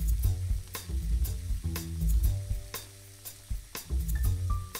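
Fajita peppers and onions caramelizing in a hot pan sizzle steadily while being tossed, with sharp scrapes and clinks of the pan and spoon up close, and no speech.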